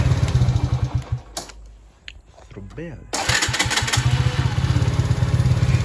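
A Ford Mustang's engine cranks and catches, then settles into a loud, steady running throb close by, with a short quieter gap in the middle and a brief spoken word.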